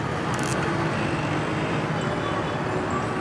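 Busy street traffic in India, a constant wash of engine rumble and road noise at moderate distance with a brief higher clatter near the start.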